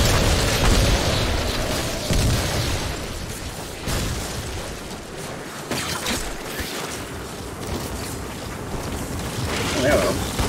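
Explosions and mechanical booms from the video game Lost Planet: Extreme Condition, dense and continuous gameplay noise rumbling throughout with a few sharper bursts.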